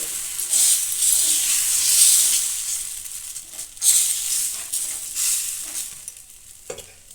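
Mung bean pesarattu batter sizzles loudly on a hot griddle in a bright, steady hiss that swells and slowly fades, with occasional light scraping sounds and no talking.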